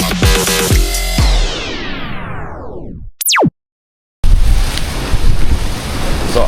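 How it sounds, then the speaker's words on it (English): Strong Santa Ana wind in Southern California buffets the microphone with heavy, roaring rumble. It cuts out abruptly into a falling tone and silence, then resumes as a loud, dense wind roar. "I don't know if you can hear me, but the wind is crazy"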